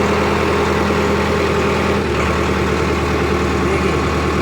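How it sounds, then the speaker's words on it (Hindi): A tractor engine held at a raised speed of around 1200 rpm drones loud and close, a constant low, throbbing hum without change or voices. "देखिए 12 की रेस पर मैंने अपना ट्रैक्टर कर दिया है।"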